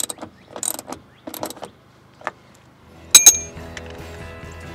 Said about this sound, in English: Start it by hand and finish up with a ratchet.